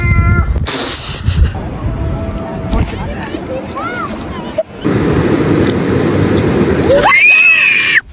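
Seagulls giving harsh, cat-like mewing calls, loud and close, with several rising wails near the start and a final sharp cry, over wind and surf noise while a person talks.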